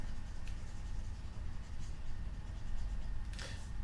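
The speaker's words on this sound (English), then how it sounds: "Let's erase all that." A board eraser rubs away writing on a board during a lesson, a soft, steady scraping and brushing that stays faint and continuous for a few seconds.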